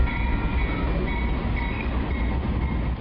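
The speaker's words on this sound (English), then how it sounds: "Video shot last week shows an oil train with 50 tanker cars rolling through Midtown Sacramento." An oil train of about 50 tanker cars rolls through Midtown Sacramento, a loud, steady rumble of wheels on rails that holds for the whole stretch, close by, with a faint squealing tone above it and no voices.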